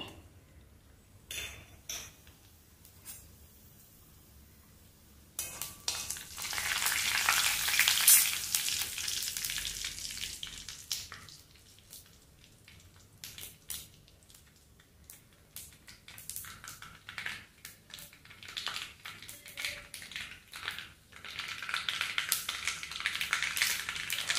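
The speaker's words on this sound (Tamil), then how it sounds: "எண்ணெய் சூடாக இருக்கும். கடுகு, இது பெருஞ்சீரகம் 2 டீஸ்பூன்," Mustard and fennel seeds hit hot oil in a pan for a cauliflower fry, bursting into a loud, dense sizzle and crackle that rises and fades, with faint clinks of a utensil against the pan.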